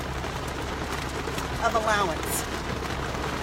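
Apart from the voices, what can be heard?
heavy rain falling outside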